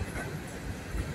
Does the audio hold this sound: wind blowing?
no